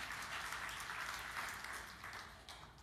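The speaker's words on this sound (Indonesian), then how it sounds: "Tepuk tangan yang meriah bagi Tuhan Yesus." A congregation at a church sermon gives a steady, dense round of applause, moderately loud and continuous for a few seconds before tapering slightly.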